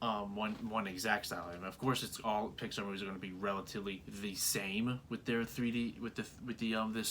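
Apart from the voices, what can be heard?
No everyday noise stands out behind the speech.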